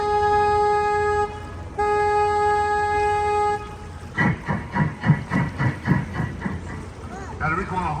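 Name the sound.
river tour boat horn honking, San Antonio River Walk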